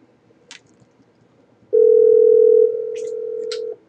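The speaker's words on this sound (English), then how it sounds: "That's the third ring." A ringback tone plays on an outgoing survey phone call: a single steady electronic ring lasting about two seconds after a quiet moment, clear and alone, with faint clicks around it.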